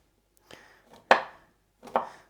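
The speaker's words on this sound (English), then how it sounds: "So I make that with peppers, diced up peppers." A knife dices peppers on a cutting board: four separate crisp chops, close and fairly quiet, spaced irregularly with the third and fourth strongest, and no talk.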